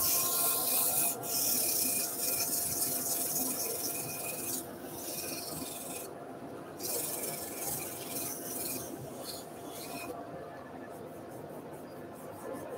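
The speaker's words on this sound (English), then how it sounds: "Back to the abrasive just to sand that in." Abrasive paper rubs steadily against a turned wooden button box spinning on a lathe, a continuous close hiss with slight shifts in intensity as pressure changes, and no talk.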